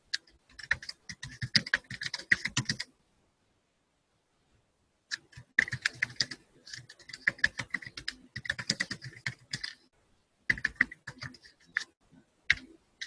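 Name being typed on a computer keyboard: bursts of rapid, close key clicks with a pause of several seconds between runs, no talking.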